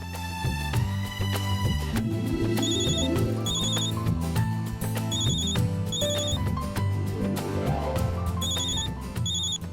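A phone ringtone plays a repeating chiming melody over a rhythmic musical backing, steady and moderately loud throughout, with no talking.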